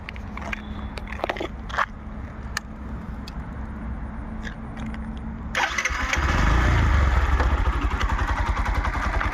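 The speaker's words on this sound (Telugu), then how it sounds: "ఇక ఇంజన్ స్టార్ట్ చేసి చూపిస్తా చూడండి ఫ్రెండ్స్" Bajaj Platina 100 motorcycle: a few mechanical clicks and knocks give way to the engine catching and settling into a close, steady putter that runs through the last few seconds.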